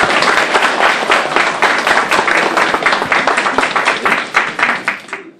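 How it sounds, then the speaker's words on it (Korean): A party office opening ceremony crowd breaks into loud, dense applause to welcome a university professor, sustained close clapping that thins out at the very end. "박수로 맞아주시기 바랍니다."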